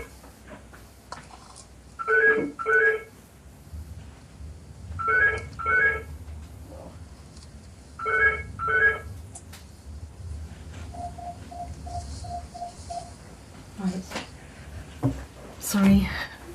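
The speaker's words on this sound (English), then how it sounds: "I think my phone's ringing." A mobile phone rings during an indoor conversation, short repeated electronic bursts in spaced pairs, then a softer run of rapid beeps, heard fairly near, with people talking quietly around it.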